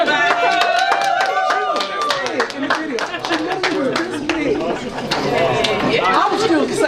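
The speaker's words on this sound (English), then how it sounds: "Round of applause, everybody" Audience clapping in a busy media lounge, brisk individual claps and cheers mixed with crowd chatter and talking voices throughout, fairly close and loud.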